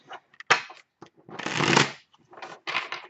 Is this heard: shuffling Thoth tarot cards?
yes